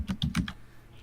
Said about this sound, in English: Oh, he's giving up and typing.